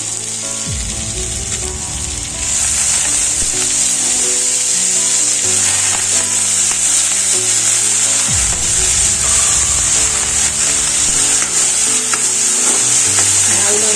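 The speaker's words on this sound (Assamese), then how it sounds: "এতিয়া ইয়াতে আমি তিয়াই থোৱা মচুৰ দাইলখিনি দি দিম।" Soaked masoor dal hits a hot pan with turmeric, setting off a loud, continuous sizzle close up, with scraping stirring sounds and a steady frying hiss that holds throughout.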